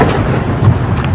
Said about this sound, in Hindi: धमाके की आवाज सुनाई दे रही है। ये रॉकेट फायर किए जा रहे हैं